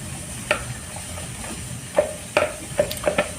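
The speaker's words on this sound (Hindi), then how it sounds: "अब सिंपली इसमें हम ये कास्टिक को डाल देते हैं, और इसको कर देते हैं अच्छे से मिक्स।" Caustic being stirred into a liquid soap mixture, a series of short scraping swishes at a moderate distance, spaced irregularly and growing more frequent toward the end over a steady background hiss.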